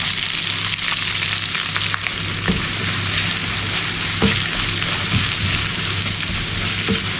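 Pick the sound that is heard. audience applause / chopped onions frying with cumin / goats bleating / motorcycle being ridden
chopped onions frying with cumin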